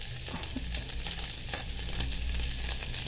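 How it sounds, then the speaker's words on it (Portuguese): Prata bananas fry in a pan alongside bacon and sausage in their own rendered fat, with no oil or margarine added. A close, dense crackling sizzle runs steadily throughout, with no voices. "Eu vou colocar a banana para fritar junto."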